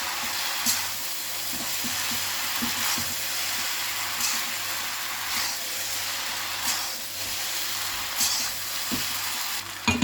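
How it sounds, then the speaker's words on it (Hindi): Chow mein noodles and gobi manchurian tossed in sauce in a hot pan, a steady close sizzle with frequent scraping stir strokes and clinks throughout, no voices. "अब इन सबको हम अच्छे से मिक्स कर देंगे।"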